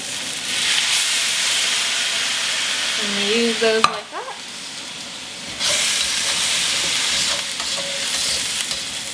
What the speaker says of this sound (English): And we're just going to steam the vegetables basically.